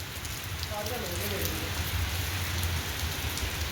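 Heavy rain falls in a park, a dense, steady hiss with a low rumble beneath, heard close and continuous. A faint voice is briefly audible early on.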